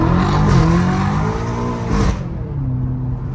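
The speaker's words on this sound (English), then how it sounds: "When it's redlining like that, when it's freaking spinning, the tires are spinning like that, it sounds so crazy." A BMW M5 with a catless competition exhaust screams at redline, harmonics sweeping as it holds near its limit, loud and close, then the pitch drops back.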